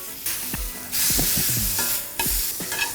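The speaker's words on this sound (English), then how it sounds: "The pan is super searing hot. What we're looking for is an even sear on both sides." Beef tenderloin sears in a very hot pan of olive oil, a loud hissing sizzle that swells in bursts, mixed with scraping and clunks of the pan and utensil.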